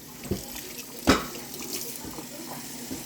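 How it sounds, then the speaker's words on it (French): Tap water runs into a cooking pot for wild rice, a splashing gush with a sharp clunk near the start, then a steady trickle, close by and moderately loud. "Ça c'est pour mon riz. Je mets de l'eau."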